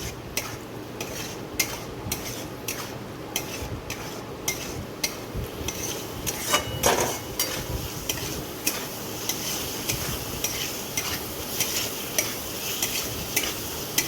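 A spoon scrapes and stirs potatoes and spices in a pan, a steady run of close scraping strokes over a soft sizzle, with no talking.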